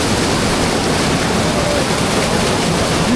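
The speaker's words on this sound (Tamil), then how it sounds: "ஆனால் தண்ணி வந்து வேகமாக வந்து மண்டையில் விழுகுது." Loud, continuous rush of water pouring down fast onto someone's head while bathing under a flow in a Kilinochchi village, a steady hiss with no voices.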